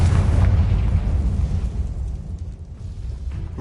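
A Confringo fire spell explodes inside a tomb in Hogwarts Legacy, a loud booming blast up front that decays into a low, rumbling tail.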